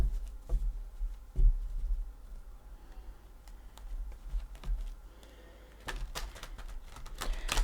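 A Tarot of Dreams deck being shuffled a couple of times gives soft, quiet papery clicks and a brief crackling riffle near the end, with faint background noise.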